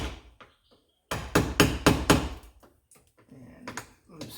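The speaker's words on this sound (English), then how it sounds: "So I've got a screwdriver and a hammer. I'm going to give it a little tappy tap tap right there." Screwdriver struck with a hammer against a car battery terminal on a 2016 Lexus GX460, a handful of sharp metallic taps in a quick close-up cluster, followed by a few lighter knocks.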